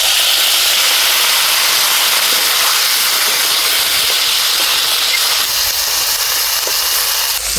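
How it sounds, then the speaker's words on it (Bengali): Water poured into a hot pan of spiced kundru (ivy gourd) masala sends up a loud, continuous steam hiss and sputter, close and sustained without a break. "এবারে সামান্য জল দিয়ে ঢেকে দেব"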